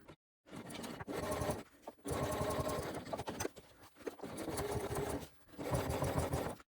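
A sewing machine back-stitches a curved seam in fabric, running in several short bursts of rapid mechanical chatter separated by brief pauses, close and clear.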